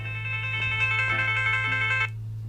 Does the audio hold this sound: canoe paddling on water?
no